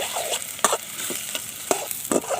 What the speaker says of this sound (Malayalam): ഗോൾഡിഷ് കളറായ ഉള്ളിൻ്റെ മേത്തേക്ക് നമ്മളിപ്പോൾ ടൊമാറ്റോ റെഡിഷ് മുളക്, റെഡിഷ് ടൊമാറ്റോ ആഡ് ചെയ്യും